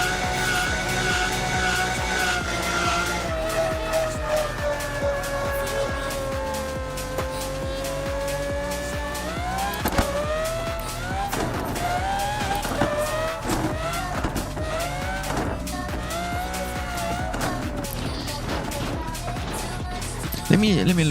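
Car in a driving video game losing its brakes, tires skidding and squealing as the engine drones continuously, with a voice talking over it.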